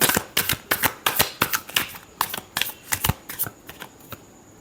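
A deck of tarot cards is shuffled by hand in quick riffling bursts, a rapid run of crisp papery flicks up close, then silence for the last moments, with no talking.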